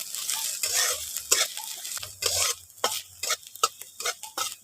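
Chopped ginger, garlic and green chilli stir-fry in a pan for a soybean momo filling: a bright sizzle rises and falls as a spatula scrapes through in quick, uneven strokes close by.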